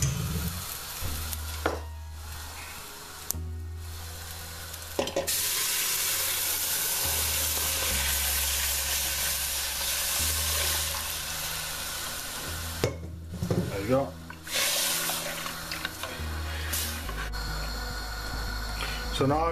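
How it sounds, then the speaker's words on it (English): Liquid poured onto browned onions for a Punjabi curry sets off a loud, sustained sizzle and hiss with stirring clatter, continuing steadily while a person talks over it. "So what we're going to do is we're going to add our liquid."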